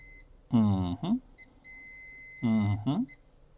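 Two short electronic beeps from a multimeter in diode mode, close and clear, separated by a pause of about two seconds.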